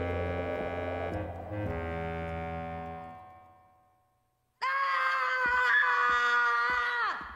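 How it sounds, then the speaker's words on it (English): A distressed child screams in long, strained wails, the first fading into near-silence before a louder, piercing scream bursts in and holds steady to the end. "He won't stop screaming."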